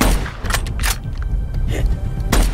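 Bursts of gunfire sound effect crack in loud, uneven volleys of booming shots and rapid fire, filling the short stretch with dense impacts.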